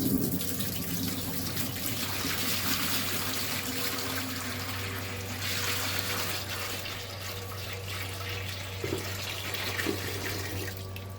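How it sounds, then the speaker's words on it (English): A bucket of water pours into a tank in a continuous rushing, splashing stream with a steady low hum underneath. It runs at moderate loudness for about eleven seconds, with no speech. "Alright, we got our bucket of water here. We're going to pour her in and see what happens."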